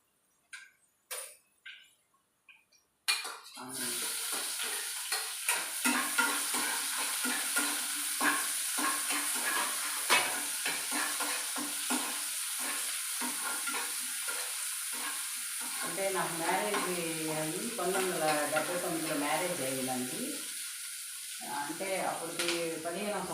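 Tamarind and curry leaves fry in a hot pan with a steady, close sizzle and stirring. A few sharp knocks come before the frying starts, and a voice talks over the sizzle later on.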